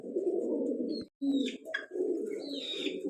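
Pigeons cooing steadily on a pigeon farm, a close, continuous low purring coo with a brief break and a few faint chirps above it.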